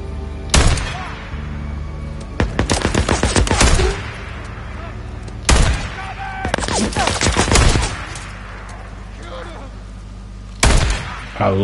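Loud rifle gunfire in the video game Days Gone comes in three sharp bursts of rapid shots, separated by short pauses in which quieter ringing echoes and ambient noise continue.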